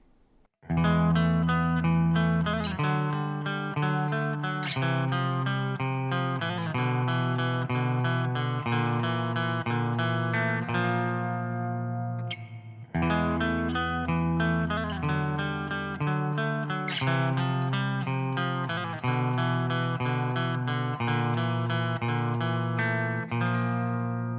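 A sustained clean electric guitar passage through a Boss Katana MkII amp, with rich reverb and a shimmering, chorus-like wash, played steadily with a brief pause midway.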